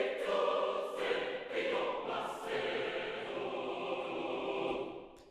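A large mixed choir of 24 women and 24 men sings sustained chords, heard from a distance with a roomy, spacious blend and soft swells, no single voice standing out.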